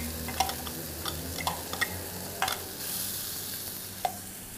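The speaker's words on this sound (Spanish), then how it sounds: "La ponemos acá en una sartén con aceitito." Chopped onion frying in a pan with a little oil: a faint, steady sizzle with scattered light clicks and taps from stirring.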